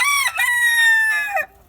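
A single rooster in a bachelor pen crows one long, loud, close cock-a-doodle-doo that rises, holds and then breaks off, followed by near silence.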